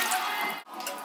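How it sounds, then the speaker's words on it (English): Water pours and trickles into a container of prepared food, a steady close splashing flow that cuts off briefly near the end, with no talking. "Probably add a little bit more water."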